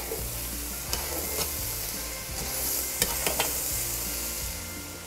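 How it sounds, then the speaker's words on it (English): Beans and vegetables sizzle in butter in a pot for a Louisiana red beans and rice dish, a steady close frying hiss with a few scraping stirs, no talk. "That sizzle means the right thing's happening down in that pot."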